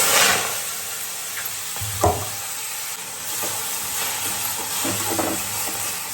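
Fenugreek leaves and moong dal sizzle in hot oil in a pan, a steady frying hiss with a few clinks and scrapes of stirring, close and fairly loud.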